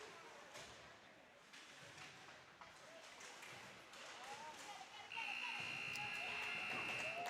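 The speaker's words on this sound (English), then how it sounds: "And there's the whistle." A referee's whistle at a 15U AAA youth ice hockey game sounds as a sustained high, steady tone about two seconds long, rising over the general rumble and crowd noise of the arena.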